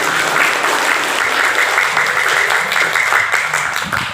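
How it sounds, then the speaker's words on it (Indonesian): An audience claps continuously at a primary school class 6 graduation ceremony, dense and steady applause filling the room for several seconds. "Tepuk tangan Bapak Ibu"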